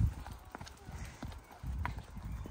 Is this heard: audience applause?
no